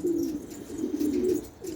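A pigeon coos in low, rolling, steady notes, close and clear, over a soft background hiss, with no voices.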